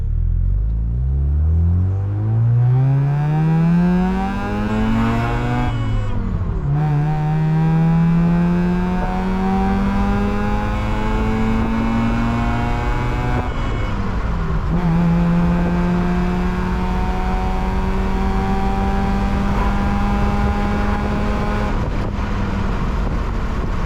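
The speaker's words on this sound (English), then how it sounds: "God, I love the downshifts on this thing. The pops on this thing are so aggressive for some reason," A Mazda FC RX-7 rotary engine driven hard on twisty roads, droning up through long pulls with sharp drops at each shift, loud and close, with faint exhaust crackles between gears.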